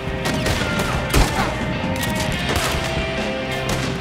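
A fusillade of gunshots in the video game Red Dead Redemption 2, a dense run of loud overlapping shots with one sharp heavier blast near the middle, fighting continuing throughout.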